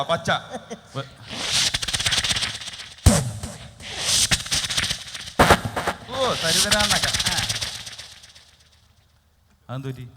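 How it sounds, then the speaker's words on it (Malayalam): String of firecrackers played as a sound effect at a stage comedy show: loud rapid popping bursts break out in several stretches with pauses between them, and voices talk over part of it. "മാലപ്പടക്കത്തിന്റെ സൗണ്ട് മലപ്പടക്കം"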